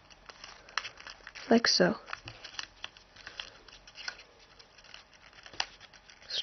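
Origami paper being folded and layers opened for a maple leaf model: close crinkling and papery rustles with one louder crumpling burst, under a person's quiet instructional talk.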